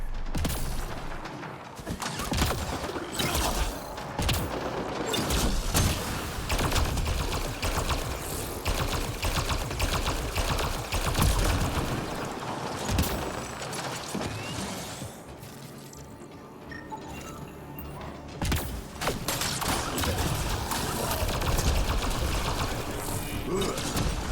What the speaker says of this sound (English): And what's the gunfire over here?